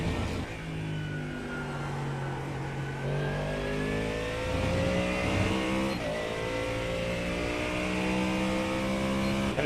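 A race car at Le Mans accelerates hard past the track position, its engine note climbing through rising revs and shifting pitch, loud and close for the full stretch with no talk.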